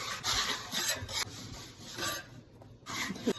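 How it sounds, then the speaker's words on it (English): A bench scraper shaping sourdough dough into a ball, close, soft scraping and rubbing strokes in short bursts with brief pauses, fairly quiet. "gently flip and use the bench scraper to create tension and make a nice ball shape"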